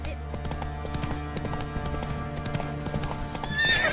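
Roach, the horse in The Witcher 3 video game, trots with steady clip-clop hoofbeats and gives a whinny near the end, over a constant low hum of game ambience.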